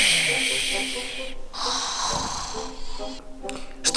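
A person snoring in their sleep, drawn-out hissing, snorting breaths with rasping inhales, loud and close, with faint tonal sounds underneath.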